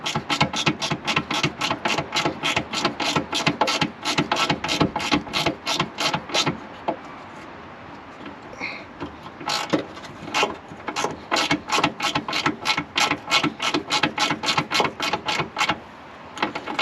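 A ratchet tightens the earth bolt on a Mk6 Fiesta ST150 wiring harness, close and loud rapid clicking in repeated bursts, a short pause midway, then more fast ratcheting clicks.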